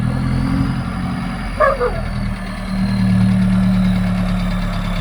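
A turbocharged RX engine with an intercooler runs at a steady loud idle, a deep constant drone with a faint high whine. A short bark-like sound cuts in briefly partway through.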